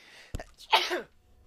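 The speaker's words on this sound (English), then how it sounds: "The sneeze!" A single sharp sneeze caused by Howler Dust in Dishonored 2, a quick intake followed by a loud, breathy burst, close and alone.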